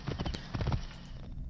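A horse in the Assassin's Creed Origins game comes in with a quick, brief run of clip-clopping hoofbeats, close and fairly soft, alone for about a second and a half.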